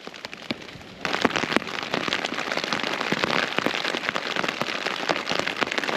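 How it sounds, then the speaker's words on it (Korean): Heavy rain driven by wind onto a camping tarp on a mountain ridge: a dense, continuous patter of close drops that swells louder after the first second and keeps drumming steadily, with no voices. "지금 비가 많이 오고 지금 바람도 많이 불어가지고"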